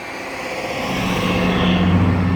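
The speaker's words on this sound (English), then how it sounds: "As I wait for a truck to go by." A truck's engine rumbles closer and grows louder over a couple of seconds as it drives past nearby.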